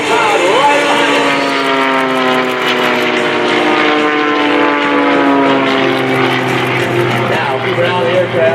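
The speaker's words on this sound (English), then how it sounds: "Now watch as both aircraft literally mirror each other in the sky." Two aerobatic propeller airplanes flying in formation at the 2019 Dover AFB airshow, a loud steady engine drone that rises and falls in pitch throughout, close and continuous, with an announcer talking over it.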